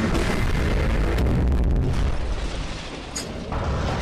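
Heavy booming blasts as Titan Speakerman fires on the Giant Scientist Toilet in a Skibidi Toilet animation, a loud continuous rumble of explosions with a brief dip near the end.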